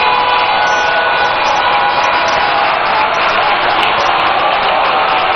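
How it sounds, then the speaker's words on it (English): Large crowd applauding and cheering at an NDC 2024 manifesto launch rally in Winneba, a loud continuous wash of clapping and voices held steady from start to finish. "Ladies and gentlemen, a rousing round of applause for the Right Honorable Speaker of Parliament, Alban Sumana Bagbin."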